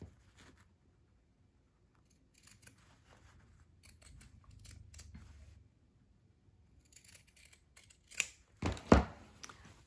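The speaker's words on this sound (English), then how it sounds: "I'm going to use my pinking shears again and trim" Pinking shears trimming cotton fabric along a sewn armhole seam: quiet rustling handling, then a few crisp, close snips, the last ones louder.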